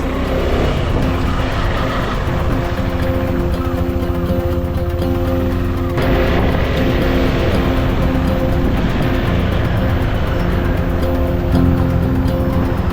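KTM 390 Adventure motorcycle on a test ride after a clutch cable replacement, its engine droning steadily and loudly with heavy rushing wind noise throughout.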